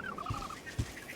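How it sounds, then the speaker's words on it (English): Recorded plover and pigeon calls playing in an Unreal Engine game level: a fairly faint string of rapid piping bird notes, followed by two soft low cooing thumps, over a steady background hiss. "So those are recording of some plover birds as well as some pigeons."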